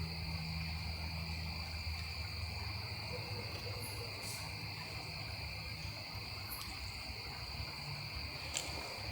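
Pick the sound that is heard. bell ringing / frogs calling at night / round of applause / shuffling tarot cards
frogs calling at night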